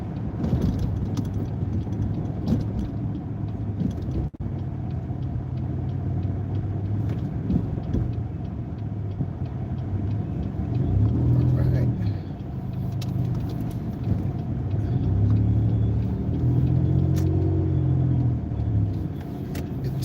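A car drives in heavy traffic on a highway exit ramp, its steady engine rumble and road noise loud and continuous, with the engine note rising and falling as it slows and accelerates, alongside the sounds of other passing vehicles.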